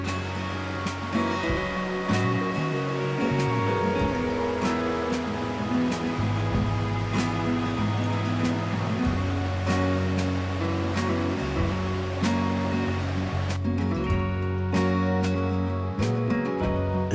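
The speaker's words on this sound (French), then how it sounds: "Et on ne sait où porter le regard tellement les chutes d'eau sont nombreuses." Numerous mountain waterfalls at Cascade du Liaré in the Cirque du Fer à Cheval near Sixt, fed by glaciers, pour into a branch of the Gifre, a constant broadband roar with a faint tonal music bed underneath.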